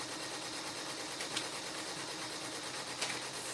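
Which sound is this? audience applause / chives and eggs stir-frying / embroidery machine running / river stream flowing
embroidery machine running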